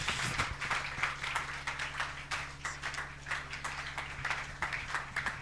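A church congregation applauding during a Sunday service, dense rhythmic clapping filling the hall steadily over a low musical hum, with faint voices mixed in.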